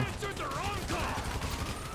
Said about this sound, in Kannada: ಓ ಬುಲೆಟ್ ಬೀಳ್ತಾ ಇದೆ ಬುಲೆಟ್ ಬೀಳ್ತಾ ಇದೆ ಅವನಿಗೆ